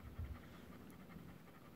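A grown dog panting quietly and close by in a home, soft rapid breaths in a steady rhythm with no voices.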